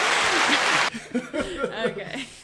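Applause from a small group at a casual coffee-chat show, a dense burst of clapping for about a second that cuts off abruptly, followed by someone talking and chuckling alone.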